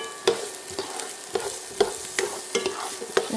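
Vegetables sauté in a pan with a soft continuous sizzle, punctuated by several quick metallic taps and scrapes of a spatula stirring at an irregular rhythm, close up.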